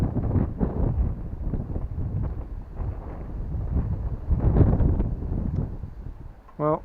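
Gusty wind buffets the microphone outdoors at a stunt kite flying session, loud rumbling bursts rising and falling, with a brief voice near the end.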